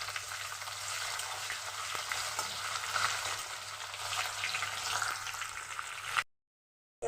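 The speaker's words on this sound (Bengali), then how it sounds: "এবার দেবো পাঁচফোড়ন, তেজপাতা, এবার দিয়ে দেবো পেঁয়াজ।" Onions sizzling in hot oil with five-spice (panch phoron) and bay leaf in a pan while cooking banana flower, a steady close crackling fry with no talk, cutting off abruptly near the end.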